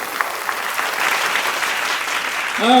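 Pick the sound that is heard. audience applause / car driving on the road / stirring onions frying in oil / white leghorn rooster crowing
audience applause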